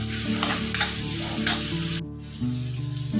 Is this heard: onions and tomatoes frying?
yes